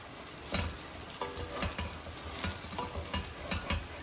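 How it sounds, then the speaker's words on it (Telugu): Curry leaves go into a pan of country chicken curry and are stirred: a steady, close hiss of sizzling oil, with repeated scraping stirs rising above it, and no talking. "అందులో కొద్దిగా కరివేపాకు వేసేసుకుందాం."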